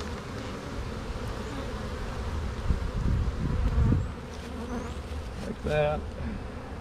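Honeybees buzzing around a hive opened in spring, a steady close drone with a few louder swells; a person speaks briefly over the buzzing.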